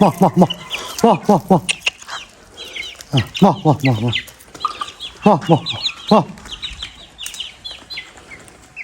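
Several chickens cluck in quick, rhythmic runs of calls close by, with higher chirps and peeps scattered in the background.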